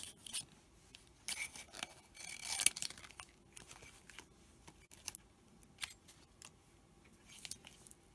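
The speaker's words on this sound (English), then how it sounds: "I'm going to grab a pair of scissors. So I'm just cutting away some of the backing paper." Scissors snipping through vinyl backing paper in a quiet room, a run of close, crisp cuts and rustles in irregular bursts.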